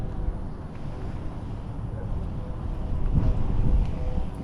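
Wind buffeting a microphone on a fishing boat, a steady low rumbling roar that swells slightly toward the end, with a faint voice murmuring beneath it.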